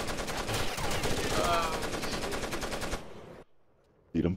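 Rapid automatic gunfire from the video game Rainbow Six Vegas 2 rattles loudly in a steady stream for about three seconds. It cuts to near silence, then a short loud burst returns at the end.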